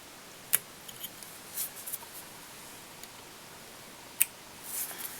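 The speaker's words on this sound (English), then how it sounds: "and then I want to take my scissors" A few faint, sharp snips of scissors trimming a fly-tying thread base, spaced irregularly over quiet background hiss.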